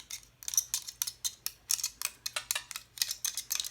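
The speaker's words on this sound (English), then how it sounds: "punch through all those cards and all the little bits" A pick tool punches small die-cut bits out of layered card stock, producing a quick series of crisp, close ticking clicks in an uneven rhythm, alone without talk.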